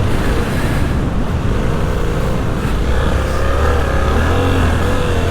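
Suzuki V-Strom 800DE motorcycle riding through sand, its engine a steady, loud drone with slight rises in revs, mixed with continuous wind and rolling noise throughout.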